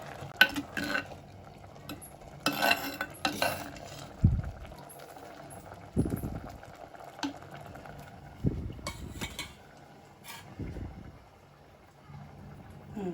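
A spinach curry simmering in a pan is stirred with a utensil, making intermittent scrapes and knocks against the metal at an irregular rhythm, close and fairly quiet, with a faint low background.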